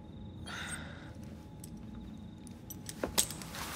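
A bunch of keys jangles as it is handed over in Assassin's Creed Syndicate, a short metallic clink near the end after a quiet stretch with a soft breath.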